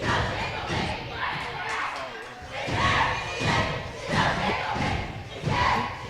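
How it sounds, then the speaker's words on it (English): Crowd cheering at a Maryvale versus SPSG varsity basketball game, a chanted cheer rising and falling in repeated loud bursts with shouting voices and thumps underneath. "Love this cheer."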